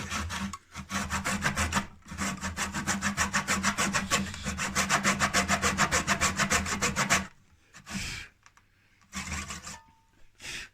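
An oscillating multi-tool cuts into a wooden sash window weight door with a loud, rapid buzzing rasp in long continuous bursts, then stops and restarts in shorter runs near the end.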